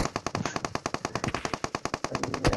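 Rapid automatic gunfire in a shooting video game, a fast steady burst of sharp shots lasting the whole moment, loud and close with no voices.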